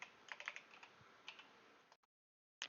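Quiet, close typing on a computer keyboard: a short run of light clicking keystrokes in uneven rhythm, a brief silence, then a final key tap.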